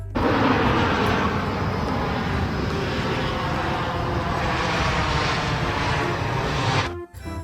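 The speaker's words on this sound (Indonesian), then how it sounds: "pesawat terbang." Loud, steady engine-like roar of an airplane, tied to a toy plane, holding at high level for about seven seconds before cutting off sharply near the end.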